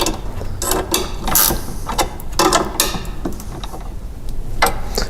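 A half-inch socket wrench ratchets in quick clicking bursts while tightening a striping kit bracket on a Husqvarna mower, close and crisp with short pauses between strokes.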